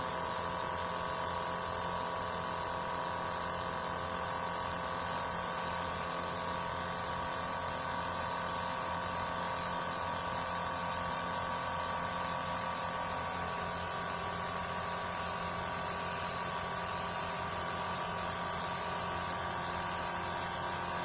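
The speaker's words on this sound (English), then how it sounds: "we are going to begin airbrushing our first color." Continuous hissing spray from an airbrush applying purple paint, with a faint mechanical hum underneath, steady and close throughout without pauses or voices.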